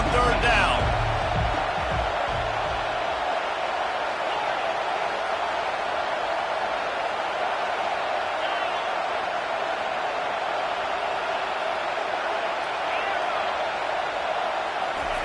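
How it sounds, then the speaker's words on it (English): A football stadium crowd roars on a third-down defensive stand, a dense, sustained wall of cheering and noise that holds at a steady level, with a play-by-play commentator talking over it. "Decibels rising as the crowd gets behind this defense on 3rd down"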